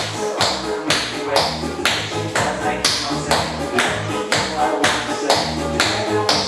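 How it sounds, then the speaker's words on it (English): Tap dance shoes strike the floor in forward taps, a steady run of crisp, loud metallic clicks in even rhythm with faint background sound. "let's take some forward taps"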